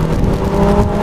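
A Lotus Elise drives on a track, a brief loud, close roar of engine and tyres holding steady for about a second.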